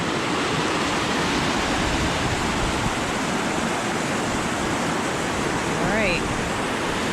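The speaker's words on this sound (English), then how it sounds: "There's water coming down both branches of it." Loud, constant rushing roar of Niagara Falls in Baxter State Park, water pouring down both branches of the falls heard up close, with a brief whistling bird call near the end and no talking.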